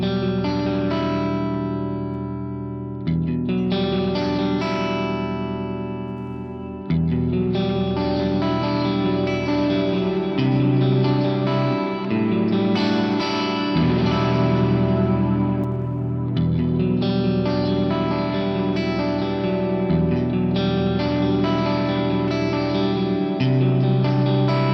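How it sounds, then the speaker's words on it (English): Electric guitar chords played through heavy effects on a Fractal unit, footswitches changing reverb types and settings so the tone and reverb character shift abruptly several times as the playing continues. "Again, totally different reverb types and settings."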